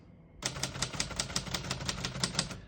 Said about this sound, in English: And I'm going to finish typing.